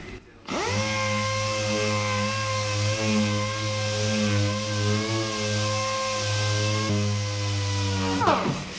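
A power sanding machine spins up on a car body to rub down guide coat in a workshop. A loud, steady whine holds close by, then winds down near the end.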